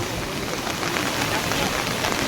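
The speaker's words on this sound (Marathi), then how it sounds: "वरून पाऊस पडत आहे" Dense, steady hiss of rain falling on surfaces beside a flooded river, continuous and fairly loud with no pauses.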